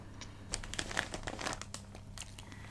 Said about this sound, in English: So let's start with some crinkles.